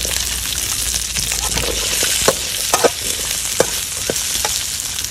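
Chili and shallot frying in a pan for a sautéed dried clam dish, a loud continuous sizzle close by, broken by a few sharp stirring clicks and scrapes.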